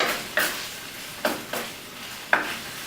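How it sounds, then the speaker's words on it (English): Chicken liver and cucumber sizzle softly in a hot wok while a utensil scrapes and clanks against the metal a few times at irregular intervals, close by. "You have to keep on stir frying it."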